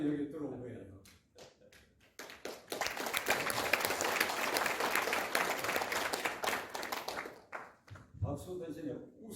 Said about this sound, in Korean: 웃으라고 박수만 치시네요